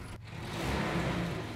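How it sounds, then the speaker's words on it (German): A car engine runs in DayZ, giving a steady, fairly loud low rumble that swells slightly after a brief knock at the start, with no talk over it. "Die Karre läuft."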